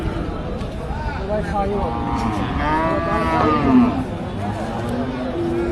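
Cattle moo loudly at a busy cow market, long drawn-out calls rising over a constant hubbub of people talking nearby.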